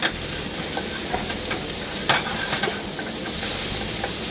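Turmeric is stirred into a pot of Moroccan meatballs, a bright steady sizzle and hiss with soft spoon scrapes and occasional sharper taps, close and continuous, no voices.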